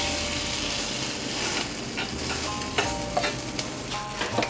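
Cha-om leaves and egg batter sizzle in a pan over a gas stove, a steady close frying hiss broken by a few sharp scraping clicks of a utensil.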